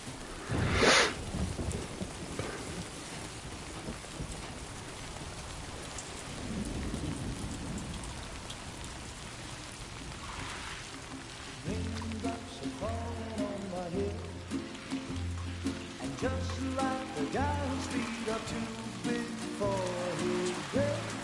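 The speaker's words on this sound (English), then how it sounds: "Those raindrops are falling on my head, they keep falling" Steady heavy rain with rumbling thunder in the video game Death Stranding 2, a constant wash of downpour with a loud thunder crack near the start, later joined by rhythmic music.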